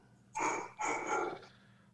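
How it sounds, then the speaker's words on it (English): A dog gives two quick, fairly loud barks in a row, close by in an otherwise quiet room with no talking. "Whose dog is barking?"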